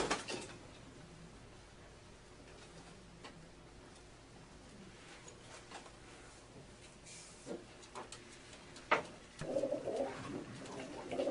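A dilute recessive red pigeon cooing softly and intermittently against a quiet indoor background, with a few brief clicks and knocks near the end.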